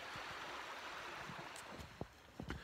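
Minister Creek flows at a campsite in the morning, giving a steady broadband wash of running water with a few soft knocks near the end, and no talk.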